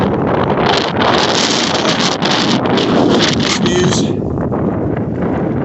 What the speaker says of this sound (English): Man, this wind is a howler.